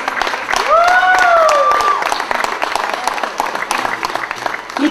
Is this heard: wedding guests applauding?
yes